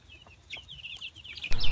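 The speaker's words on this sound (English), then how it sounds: "last year his big project was raising over 50 chickens. Real peeps." Chickens from a backyard flock of about fifty birds clucking close by, with a run of short, sharp calls that grows louder and busier toward the end.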